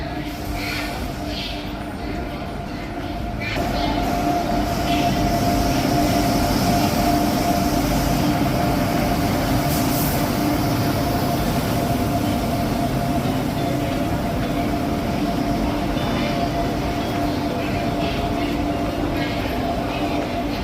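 The Rameswaram–Okha Express arriving at a railway station, rumbling steadily and loudly, a continuous rolling roar with a faint hum above it, growing stronger after the first few seconds.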